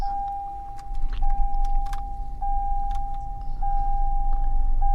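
A Toyota started by push button with a foot on the brake: a low engine rumble swells and settles into a steady idle while a thin electronic chime beeps at a regular pace throughout.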